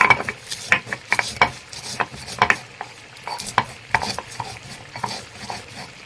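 Roasted black pepper, bay leaf and cumin being ground together on a grinding stone, giving repeated scraping and knocking strokes at a steady, uneven rhythm, close and moderately loud with no talking.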